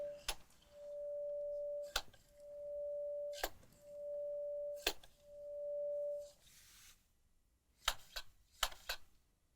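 Test tone sent through the channels of a mixing console during an inspection: four steady beeps about a second long, evenly spaced, with clicks and knocks of fader handling between them and no speech.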